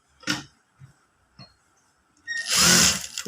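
Sewing machine stitching the top of a Katori blouse: a few short separate bursts of machine whir, then a louder sustained run of stitching near the end, close and with no talk.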